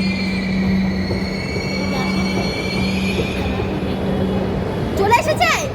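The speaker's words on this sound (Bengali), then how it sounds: "এই দেখো মেট্রোটা এসে গেছে, এসে আবার চলেও যাচ্ছে।" A metro train pulls into a station, wheels and motors rumbling loudly with a steady whine and high squeal, and a voice briefly chimes in near the end.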